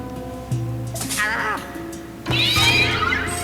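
Cat meowing in the Luigi's Mansion 3 video game, two drawn-out, wavering meows over a steady game music and hum background, the second louder and longer.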